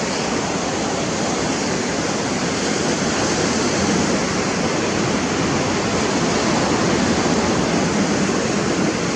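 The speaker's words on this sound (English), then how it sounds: "The power of the water is amazing. The wind moves the water moves the sand, and more." Water waves washing up over sand on a beach, a steady, loud, broadband rush of surf with no pauses, heard close and alone without any talking.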